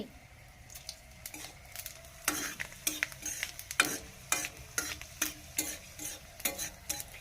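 Panch phoron spices sizzling in hot oil in a pan, stirred with a spoon, giving steady frying hiss under loud, rhythmic scrapes and clinks of the utensil against the pan, with no talk.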